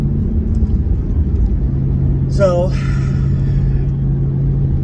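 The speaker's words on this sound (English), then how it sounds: "I'm driving around in my car. It's my baby." A Shelby Mustang's engine rumbles low and steady from inside the car while driving, with a brief higher swooping sound partway through and someone talking over it.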